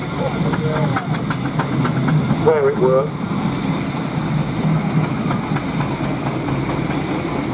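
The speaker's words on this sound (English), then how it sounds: "Very, very nice to see an Isle of Wight engine over here working." An Isle of Wight steam traction engine working at the Tinkers Park steam rally, a steady low rumble with a faint hiss and chuffing under a brief spoken comment and outdoor crowd noise.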